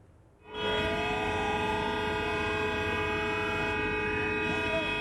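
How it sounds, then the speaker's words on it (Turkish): Blaring car horns and ship sirens along the Caspian Sea shore sound continuously, loud and sustained, layered tones blending together over a steady rumble during a remembrance for martyrs in Azerbaijan. "Arabaların kornaları, Hazar Denizi kıyısındaki gemilerin sirenleri birbirine karıştı."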